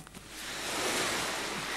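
Surf rolls onto a Greek island beach, a broad, steady wash of breaking waves that swells in the first half-second and then holds loud and continuous with no voices.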